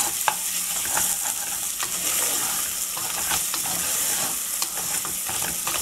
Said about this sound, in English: Let's fry this ginger garlic, onions and paya on a sim